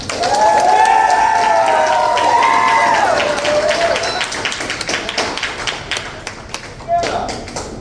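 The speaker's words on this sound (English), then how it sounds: "if you could please give a warm round of applause for your 2023 to 2024 Improv Kings, AJ Soto and Ezra Dunn" An audience at a high school theater awards show applauds a pair of improv award winners, a steady roar of clapping with scattered voices and tonal calls over it that thins out toward the end.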